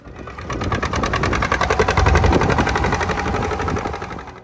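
An old farm tractor engine running, a close, loud, steady rapid chugging and knocking rhythm that holds evenly throughout with no talk.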